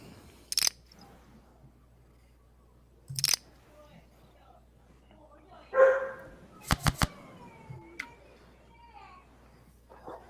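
A German Shepherd gives a few short, sharp barks during an indoor community poker game, spaced out among quiet stretches, sharp sounds and people chatting nearby.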